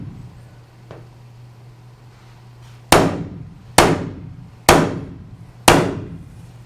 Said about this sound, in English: I'm gonna go ahead and take a punch and just make a little indent